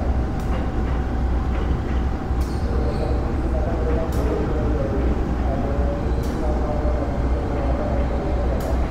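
Senja Utama Yogyakarta passenger train hauled by a CC204 diesel locomotive, a steady loud rumbling roar of the moving train with periodic rail clicks, heard from inside.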